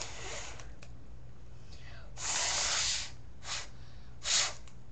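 Paper origami balloon being inflated by mouth: three breathy blowing bursts of air, one long and two short, close to the microphone with a quiet low hum underneath and no talking.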